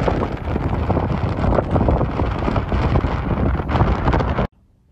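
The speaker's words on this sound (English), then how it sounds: "Wind." Strong wind blows across a black-sand winter beach, a loud, steady roar buffeting the microphone that cuts off abruptly near the end.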